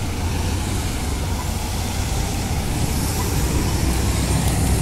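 A Nis bus driving past on a busy road during a rail line shutdown, a steady loud rumble of engine and traffic noise with no pauses.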